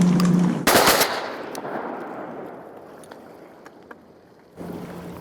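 Shotgun blasts ring out over a mallard pond during a duck hunt, a loud burst of several rapid shots near the start whose echo trails off across the water before another report at the end.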